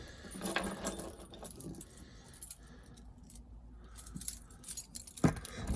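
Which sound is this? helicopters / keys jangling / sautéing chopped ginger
keys jangling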